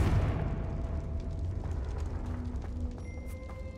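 A Confringo blasting spell explodes in the video game Hogwarts Legacy, a single burst at the very start that fades into a rumbling, crackling tail.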